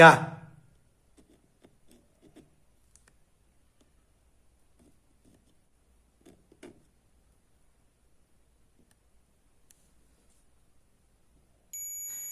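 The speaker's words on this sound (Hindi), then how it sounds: "देखिए बीप की आवाज देता है इस रजिस्टर से" A multimeter gives a short, steady continuity beep while probing a resistor on a display panel during fault finding, arriving alone at the end after long near-silence broken by faint taps.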